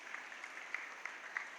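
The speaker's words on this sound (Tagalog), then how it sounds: "Palakpak naman po sa inyo." Faint, thin applause from a school moving-up and graduation ceremony audience, a soft patter of scattered claps with a few sharper hand strikes heard at a distance.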